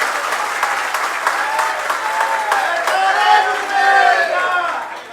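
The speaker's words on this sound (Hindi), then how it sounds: "एक बार जोरदार ताली फिर से बजाएं।" Sustained, dense applause from a large audience at a Jain religious discourse, steady and loud throughout with a brief swell near the end and no speech over it.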